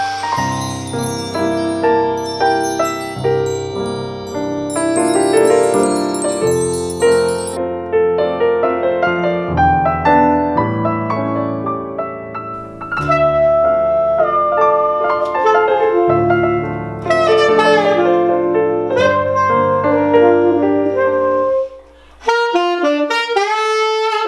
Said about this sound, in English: Just stare deeply into the chimes.